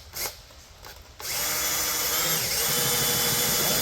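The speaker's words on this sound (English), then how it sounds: "you just grab a drill and spin it and you prime your engine." A handheld drill spins to prime an LS engine's oil system. After a few faint clicks and bumps, it starts abruptly and whirs steadily and loudly until the end.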